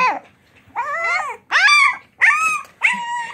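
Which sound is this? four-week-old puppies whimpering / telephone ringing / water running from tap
four-week-old puppies whimpering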